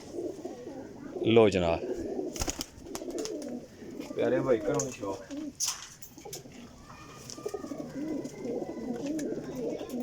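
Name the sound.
teddy flying pigeons cooing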